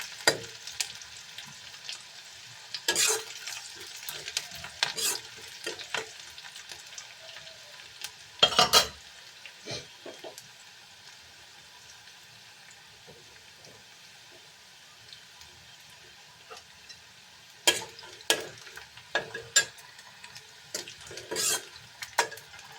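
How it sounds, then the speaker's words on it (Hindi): Onions fry in a pan and are stirred, a faint low sizzle broken by several louder bursts of scraping and clinking from the spatula, with quiet stretches between. "प्याज भून लेंगे"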